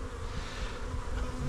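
Honey bees from wooden packages swarm and buzz steadily around backyard hives during installation, a dense, continuous hum close by with no talking.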